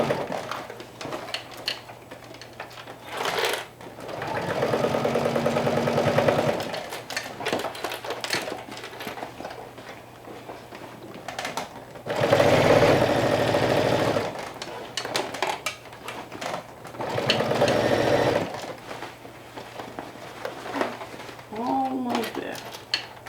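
Sewing machine stitching fabric for a bucket hat with interfacing, running in several bursts of a few seconds each between quieter pauses, fairly close and steady.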